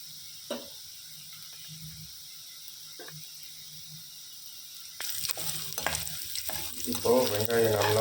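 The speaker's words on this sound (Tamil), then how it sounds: "இப்போது வெங்காயம் நல்லா ப்ரௌனிஷாக வதங்கிடுச்சு" Onions sautéing in a pan with a pinch of salt for mutton thokku, at first a faint low sizzle with a couple of soft taps, then a louder, denser frying hiss and stirring scrapes in the last few seconds.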